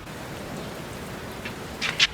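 Steady rain falls as a soft, even hiss of drops on a surface, fairly faint and constant, with a couple of brighter splashy taps near the end.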